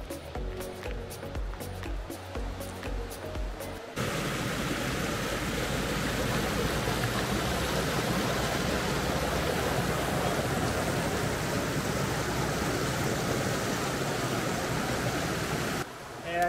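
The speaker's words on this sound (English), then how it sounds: "So much water flowing here at the moment." Steady, rushing water pours continuously through a creek at Samford, Queensland, loud and close, after a brief stretch of rustling and clatter at the start.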